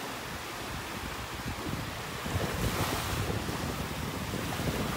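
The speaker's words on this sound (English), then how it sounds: "even though there's a bunch of little waves here" Small ocean waves break and wash steadily onto a beach in North Naples, Florida, a continuous broadband surf roar mixed with heavy wind buffeting the microphone, growing slightly louder midway.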